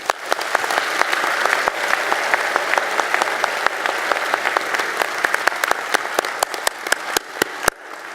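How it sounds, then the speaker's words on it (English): Loud, sustained applause fills a hall at a medical school commencement ceremony, honoring the faculty, with dense crowd clapping punctuated by sharp, close individual claps until it cuts off near the end. "a round of applause for our faculty"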